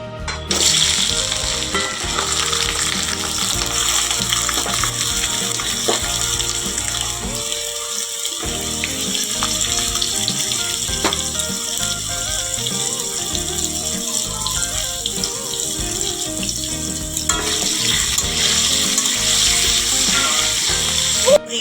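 Potatoes fry in a pan with a loud, steady sizzle, with mechanical clicks and kitchen clatter over it and a brief dip partway through.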